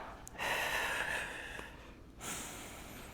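Sharp breaths in and out, close and fairly loud, from someone doing a resistance exercise in a seniors' breathing workout, with a long inhale leading into a forceful exhale and another breath after a short pause.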